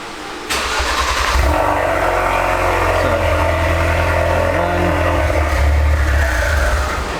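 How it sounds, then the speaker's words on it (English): A Ford Focus RS engine cranks repeatedly without catching while its fuel lines are purged during a fuel filter change, a loud, steady starter churn with rhythmic pulses lasting several seconds, close by. "you crank the car until the car stops trying to start so it won't run"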